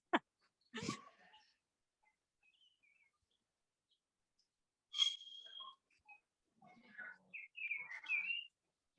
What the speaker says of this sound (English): Here we also have birds.